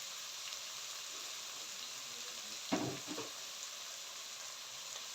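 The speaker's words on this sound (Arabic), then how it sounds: "نحمر ندي البصله كده تشويحه، مش هنحمرها، هنديها تشويحه كده لحد ما تدبل" Onion sautéing gently in a pan for a spinach and tomato dish, a quiet, steady sizzle with a brief burst of louder crackle and a couple of stirring clatters midway, no talk.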